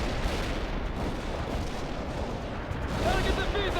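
Missile launches and explosions from the Soviet assault in the video game World in Conflict form a dense, continuous battle roar of booming blasts and rumbling fire that swells louder toward the end.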